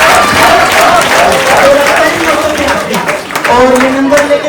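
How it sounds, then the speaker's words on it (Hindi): An audience at an ethical management best centre award ceremony applauds a winner, a steady loud wash of clapping that carries on for several seconds with voices mixed in. "ताली बजा दो जी"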